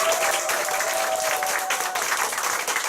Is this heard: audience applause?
yes